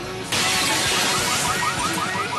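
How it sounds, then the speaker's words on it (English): Glass shatters loudly as shop windows are smashed, a sudden crash followed by a continuous spray of breaking, tinkling shards for about two seconds. "Smashing shops."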